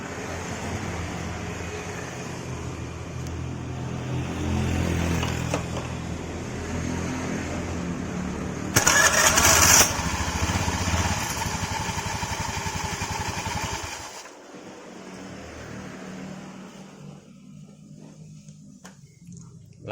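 Honda Vario 110 FI scooter with a slipping starter clutch, now repaired, being started: a running engine hum, then a brief loud burst of starter and engine noise, a steady run, and the engine cutting off near the end, with light background noise.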